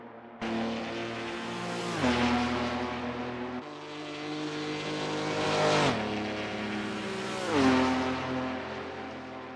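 Historic race car engines in Assetto Corsa roar through a race at Spa-Francorchamps, loud and continuous, with repeated gear shifts as revs climb and drop in several surges over about ten seconds; no one talks.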